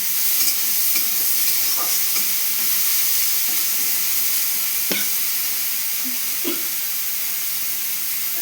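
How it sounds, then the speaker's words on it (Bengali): Tomatoes with a little turmeric stir-fried in a pan for a lentil tarka, a constant close hiss of frying with occasional scrapes and taps of the stirring spoon, and no voices. "টমেটোটাকে আমি ভালোভাবে নেড়ে চেড়ে ভেজে নিচ্ছি"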